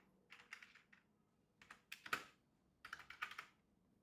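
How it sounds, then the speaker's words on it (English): Fingers type on a computer keyboard in short clustered bursts of soft clicks separated by brief pauses, close by but quiet, with no voices. "So we will type August 2025."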